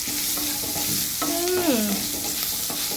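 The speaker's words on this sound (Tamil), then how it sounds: "இதை நல்லா கலர் மாறுற வரைக்கும் சிம்மில் வச்சு நல்லா வதக்கணும்" Onions for Kerala ulli theeyal sauté with turmeric powder in a pan over low heat: a steady, close sizzle with a stirring scrape and a brief squeaky rasp partway through.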